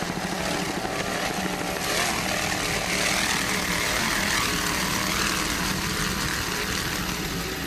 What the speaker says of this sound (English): Powered by two 500 horsepower Mercury inboards